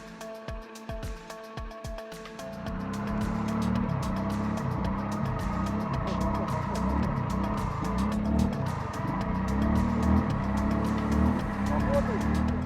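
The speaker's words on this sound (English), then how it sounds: "The winch managed to pull out the vehicle, but it was a hard task for it" A winch strains to drag a Segway Snarler quad ATV out of a swampy puddle, a steady loud motor drone with churning rises and falls running continuously after a brief choppy start.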